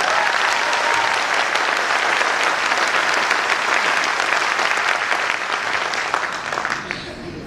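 Audience at a training seminar bursting into loud, sustained applause, a dense wash of many hands clapping that holds steady and then tapers off near the end.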